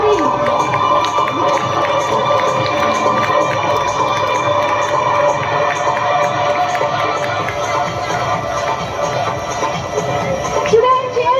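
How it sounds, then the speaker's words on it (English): A hall full of schoolchildren cheering and shouting for students performing on stage at a school Christmas celebration, a dense, loud, sustained crowd roar with high voices rising and falling throughout. "Cheer them loudly so they can get confidence in performing on the stage."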